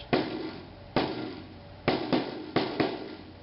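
A drum tom struck after its lugs have only been finger-tightened, giving six loose, fairly loud thuds in uneven pairs and singles, each decaying with a dull, slack ring.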